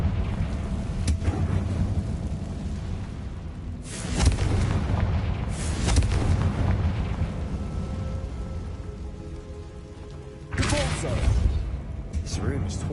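Confringo blasting spells in the video game Hogwarts Legacy go off as three separate booming explosions spaced seconds apart, each with a rumbling tail, while someone talks over the action.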